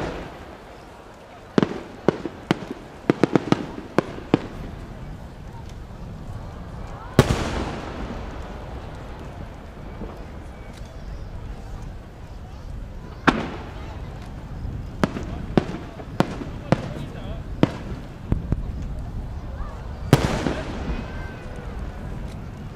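Aerial fireworks at the Omagari fireworks competition in Japan: sharp shell bursts and crackling volleys, some in quick clusters and others spaced out, booming and echoing over a low outdoor murmur.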